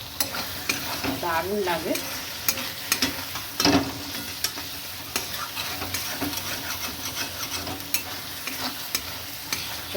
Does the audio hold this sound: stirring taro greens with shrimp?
yes